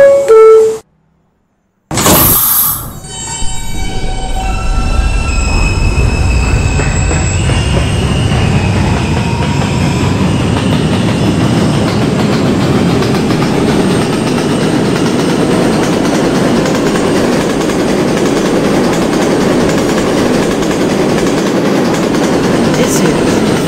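An R160 subway train on the B express line rumbles loudly and continuously after a brief sharp burst, wheels roaring and squealing on the rails as it runs at speed.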